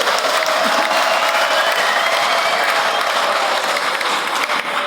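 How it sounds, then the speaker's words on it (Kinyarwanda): A church congregation bursts into sustained applause, loud dense clapping with some crowd noise filling the space throughout. "Yesu ni mumumera amashyi menshi yarakoze"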